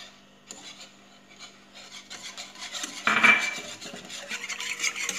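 A spoon stirs cornflour into chocolate syrup in a pan, scraping and rasping against the metal with continuous rubbing strokes that grow louder and busier as it goes on.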